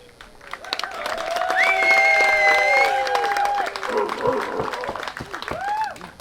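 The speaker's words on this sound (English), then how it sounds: "I would like everybody to cheer for the newlyweds." Wedding guests cheer and applaud the newlyweds; a swell of clapping and crowd noise rises, with whistles and voices calling out over it, then tapers off.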